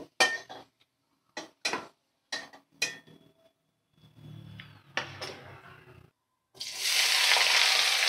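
Chopped onion drops into hot oil in a home kitchen pan after frying potatoes. A few sharp clinks of utensils come first, then a low rumble, and finally a loud, steady sizzle that swells up and fills the last seconds.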